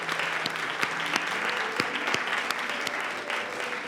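Lively applause from an audience at a student science competition, with crisp individual claps over a steady crowd patter, close and continuous for a few seconds.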